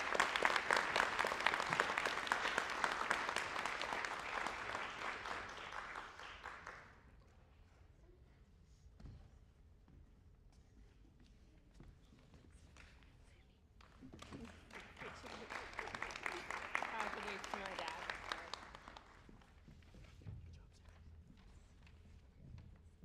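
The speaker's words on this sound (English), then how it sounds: "Please give a round of applause" Audience at a high school National Honor Society induction ceremony bursts into loud applause for an inductee, dies away into room quiet, then claps again in a second full burst before fading.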